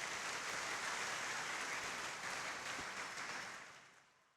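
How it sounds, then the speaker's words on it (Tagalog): Congregation applause at a Simbang Gabi church mass fills the hall as steady, distant, faint clapping that fades out toward the end. "Bigyan natin ating mahal na Panginoon isa pang malakas na palakpak."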